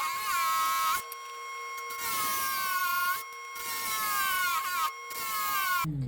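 A trim saw cuts a cabochon stone blank, giving a steady high whine with whistling, rising tones that drop out in brief gaps as the blade leaves and re-enters the stone, close and loud.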